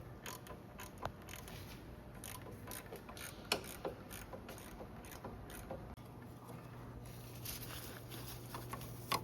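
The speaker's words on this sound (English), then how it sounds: "I'm just using a regular wrench right now. We're just gonna wind this out." A regular wrench turns a power steering line fitting on a 2005-2011 Dodge Dakota, producing small metallic clicks and scraping taps at an uneven pace over a low steady hum in the garage.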